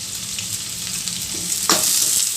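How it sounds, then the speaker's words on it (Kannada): Chopped onion, green chili, ginger and crushed garlic fry in a pan with a steady, close hiss of sizzling oil, broken by one sharp stirring clatter near the end. "ಎಲ್ಲ ಚೆನ್ನಾಗಿ ಫ್ರೈ ಮಾಡಬೇಕು"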